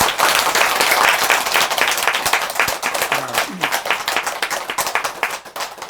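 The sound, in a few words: audience applause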